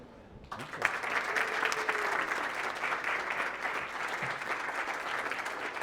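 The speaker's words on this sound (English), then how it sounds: "Please join me in a warm round of applause" Warm audience applause welcoming lecturer Kevin Levin at a Redeemer anniversary lecture. The clapping swells in abruptly after half a second and stays steady, with faint voices underneath.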